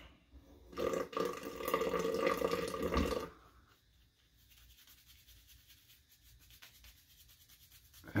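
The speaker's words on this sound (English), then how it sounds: "I'm going to try to lather it anyways." Naked Armor Solomon shaving cream being lathered, a close, wet brushing and swishing for a few seconds, then a much fainter soft rubbing continuing with no talking.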